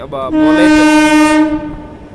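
The Garib Rath express, 12736 Yesvantpur–Secunderabad, sounds a loud, near horn blast lasting over a second as it enters Yelahanka Junction station, then the blast fades over a low rolling rumble.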